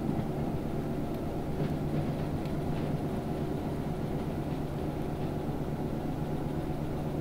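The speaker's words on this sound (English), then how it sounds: "We'll go ahead and bump up another notch of throttle. Get this train moving here." A long freight train rolls along in the Derail Valley train simulator game, a steady low rumble and drone with faint rail clatter running continuously at even loudness throughout, with no talking.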